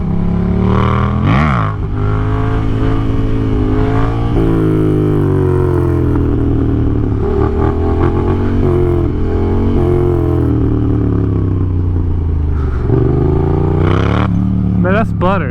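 A Yamaha FZ07 motorcycle revs and pulls through gears while being ridden on the street, a loud close engine note rising and falling repeatedly with wind rush throughout.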